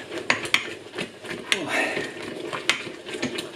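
A whisk works caramel sauce around a pan, with scraping, swishing and a few sharp metallic clinks against the sides while a voice talks alongside.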